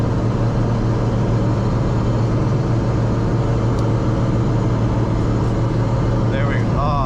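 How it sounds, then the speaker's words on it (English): Loud, steady engine and drivetrain drone from a 500 HP Nissan 240SX with a noisy differential while driving, a constant low roar filling the whole stretch with a brief higher whine near the end. "every time I drive this car, I have to wear my AirPods because it's so noisy"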